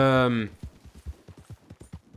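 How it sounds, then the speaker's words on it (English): Gunfire rings out in the online Western video game Red Dead Online, a rapid series of sharp, fairly faint shots at an irregular rhythm, following a brief tonal sound at the start. "what are these guys doing over there? Hearing a lot of gunfire."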